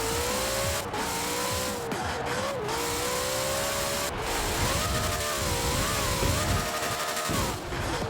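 A Hoonigan Bronco with 1800 horsepower makes a top speed run in Forza Horizon 4, its engine whining loud and continuous as it climbs through the gears, with brief dips at each shift.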